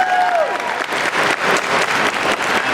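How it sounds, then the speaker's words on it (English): A large audience at an MCM Comic Con Scotland fan panel breaks into sustained, loud applause and cheering that fills the hall, with a brief tone fading at the start. "please join me in a massive round of applause for our Cops and Monsters panel"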